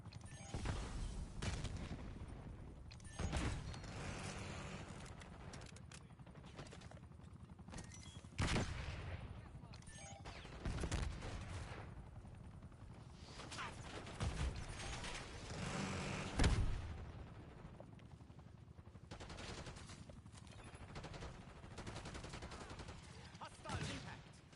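Hand cannon gunfire in Call of Duty, heavy single shots and bursts spaced irregularly over a continuous battlefield rumble, with voices under the action.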